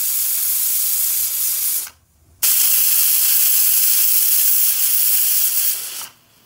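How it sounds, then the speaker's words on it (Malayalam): A pressure cooker cooking mango releases steam in loud, steady hissing blasts, one long rush cut by a brief silence and then another long rush that fades near the end, very close. "നമ്മുടെ പ്രഷർ കുക്കറിലെ പ്രഷർ എല്ലാം പോയിട്ടുണ്ട്."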